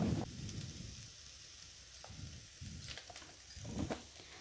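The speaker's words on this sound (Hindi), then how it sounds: "इसको भी अच्छे से मिक्स कर लेंगे और हल्का भून लेंगे।" Potato and grated carrot mixture frying lightly in a pan for aloo pithe, giving a soft, steady sizzle with faint stirring scrapes and patter, close and fairly quiet throughout.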